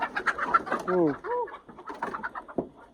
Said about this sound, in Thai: โอ้ตัวไก่เข้าหานหมดแล้ว